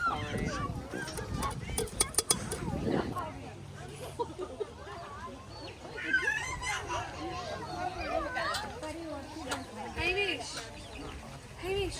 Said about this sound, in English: Surely a goose is not going to eat a carrot.